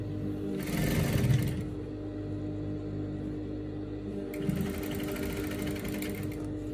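A sewing machine stitches the lining seam of a pencil skirt in two runs: a whirring burst of about a second, a quieter pause, then a second longer stretch of stitching. Heard up close over a steady room hum, with no talking.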